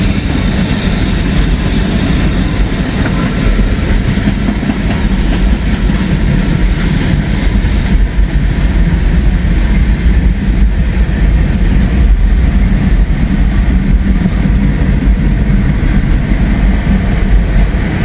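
A freight train with a DPU locomotive rolls past close by, a loud, unbroken rumble with wheel clatter that holds steady throughout.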